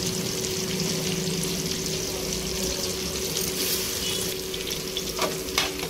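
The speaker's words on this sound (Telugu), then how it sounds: "ఇవైతే మంచి కలర్ వచ్చే వరకు రొయ్యల్ని వేయించుకోవాలి" Washed prawns fry in a hot pan with a loud, steady sizzle and crackle close by, stirred now and then, with a couple of sharp scraping clatters near the end and no talking.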